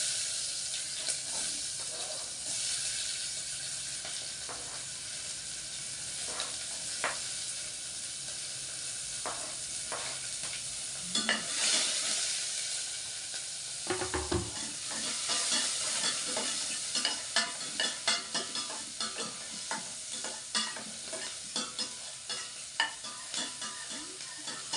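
Onions fry in a pan with a continuous sizzle, broken by repeated scraping and clinking as a utensil stirs them close by.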